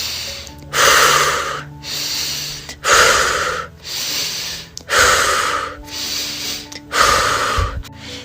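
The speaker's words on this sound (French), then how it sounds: "Cette respiration reste circulaire et laisse l'air se déplacer dans le nez jusqu'à la bouche" Strong breaths drawn in hard through the nose, then released, in four long cycles, each loud whoosh rising and falling in a slow steady rhythm, close and alone over a faint low hum.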